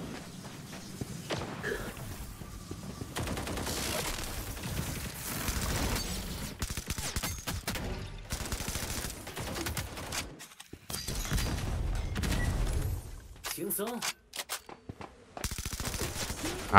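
Rapid bursts of automatic gunfire and single shots crack out in a Valorant-like mobile shooter game, interspersed with footsteps and brief pauses between exchanges.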